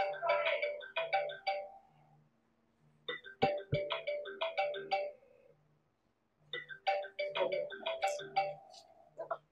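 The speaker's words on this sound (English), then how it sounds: "your phone's ringing." A mobile phone rings in repeated bursts of a melodic electronic ringtone, three long phrases separated by short pauses, fairly close and clear with no talking over it.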